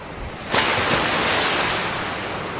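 Sea waves break on a shore with a sudden loud crash, then a sustained rushing wash of surf that slowly recedes, close and alone with no voices.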